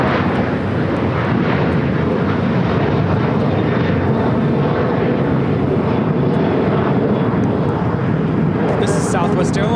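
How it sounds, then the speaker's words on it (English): A Southwest Airlines Boeing 737-800 takes off from LAX bound for Las Vegas, its jet engines roaring loud and steady throughout as a broad, continuous rumble, with voices faintly underneath. "Southwest Airlines 4664 taking off to Las Vegas on the 737-800."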